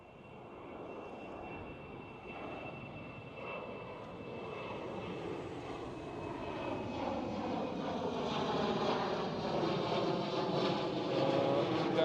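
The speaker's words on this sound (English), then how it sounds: "KLM City Hopper taking off right over here." A KLM City Hopper airliner takes off at Schiphol in Amsterdam, its jet engine roar building steadily as it climbs overhead, distant at first and then louder, heard alone with no talking.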